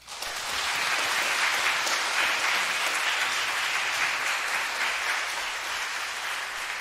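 A congregation at a Methodist church elder installation service claps warmly, the applause swelling quickly and holding at a steady level for several seconds.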